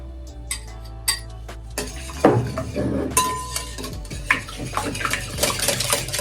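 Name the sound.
whisking wet ingredients and oil together in a bowl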